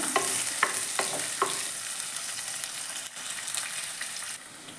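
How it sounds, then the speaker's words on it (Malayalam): Sliced onions sauté in a pan for a river-fish curry: a steady close sizzle with a few rhythmic stirring scrapes early on, then continuous frying hiss with no talking. "ഈ സവാള നല്ലോണം നമുക്കൊന്ന് വഴറ്റിയെടുക്കണം"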